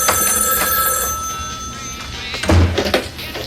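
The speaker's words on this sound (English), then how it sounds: "Answer your phone." A telephone ringing loudly and close with a bright metallic bell trill, repeated rings over a few seconds, followed by a clunk as it is handled near the end.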